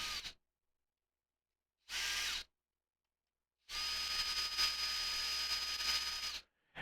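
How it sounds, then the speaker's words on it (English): A cordless power drill spinning bolts out of a Brinks commercial SC4 deadbolt lock, heard in three separate bursts, two short and one longer steady whine, close and fairly loud, with silence between. "I am going to use my drill to just unscrew the"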